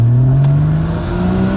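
A 2015 Porsche Boxster GTS with sport exhaust in Sport Plus mode drones loudly up close, its engine note climbing steadily as it pulls through the revs without a shift.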